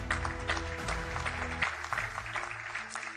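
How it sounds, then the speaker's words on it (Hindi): An audience at a Delhi event where the chief minister speaks on electric vehicles breaks into clapping, with uneven, scattered claps, fairly soft and somewhat distant, thinning toward the end. "आप अपने लिए जोरदार तालियां बजाएं"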